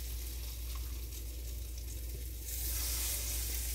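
Meatloaf mixture scooped in dollops sizzles steadily in a hot pan, a continuous close frying hiss that grows brighter and louder near the end, with no talking.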